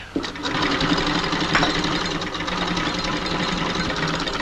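A sewing machine runs in a continuous, loud mechanical whir with rapid rhythmic stitching, close by, in a 1938 London film scene.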